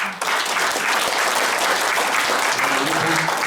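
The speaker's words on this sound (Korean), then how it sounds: "박수 한번 보내주시기 바랍니다" Audience applause fills a hall at a Democratic Party New Year unity gathering in Jecheon and Danyang, Korea: dense, steady clapping from a large crowd, loud and close, sustained throughout after a brief quiet start.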